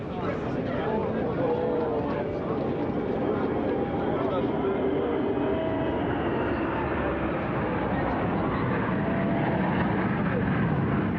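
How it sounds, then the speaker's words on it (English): A Tupolev Tu-22M3 Backfire bomber flies past at a Russian Air Force anniversary airshow, its jet engines a broad, steady roar that swells slightly toward the end, with a voice talking over it. "First to fly through is the Tupolev Tu-22 M3 Backfire, a long-range supersonic swing-ring strategic and maritime strike bomber."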